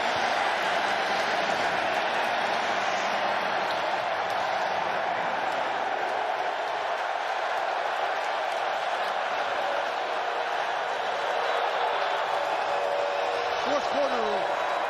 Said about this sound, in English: Cole, how's the crowd noise?